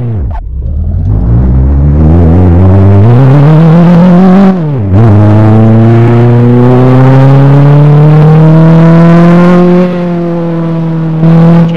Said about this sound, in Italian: Sto zitto così vi faccio sentire un po' il motore